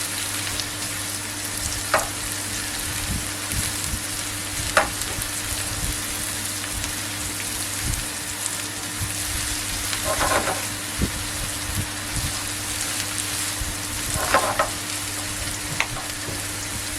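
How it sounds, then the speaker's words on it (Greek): A flour mixture fries and sizzles steadily in a pan, with occasional scraping clicks from stirring scattered throughout; the sizzle stays continuous and fairly close, with no talk. "Ανακατεύουμε το λιγάκι."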